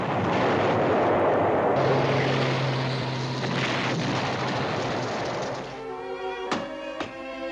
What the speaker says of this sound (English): Give me battalion artillery.